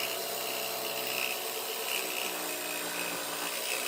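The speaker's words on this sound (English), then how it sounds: "time to cut the rest of the cockpit out" A power tool whines steadily and close up while cutting out the cockpit of a cedar strip kayak, a continuous high-pitched grinding buzz with no talk.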